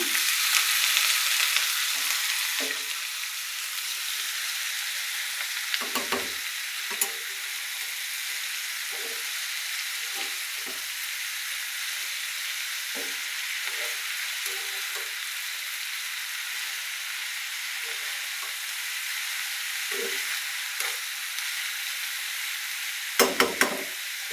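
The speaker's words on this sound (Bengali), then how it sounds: "দেখো তেলটা অনেক গরম হয়ে গেছে এখন আমি এই যে চিচিন্দাগুলো দিয়ে দেবো" Sliced snake gourd frying in very hot oil gives a steady, loud sizzle and hiss throughout, broken by occasional stirring knocks, with no voices.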